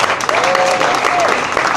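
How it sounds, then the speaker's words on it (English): Audience applause for poetry competitors at the Hessler Street Fair reading, a steady loud wash of clapping from a crowd, with a faint tonal whine drifting through it. "One big round of applause for everybody who competed."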